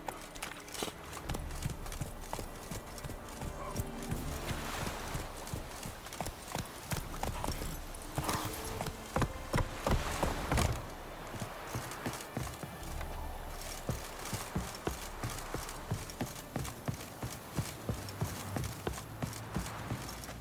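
Hooves of Roach, a horse in The Witcher 3: Wild Hunt, clip-clop steadily at a gallop, close and continuous, with a brief whinny and game ambience beneath.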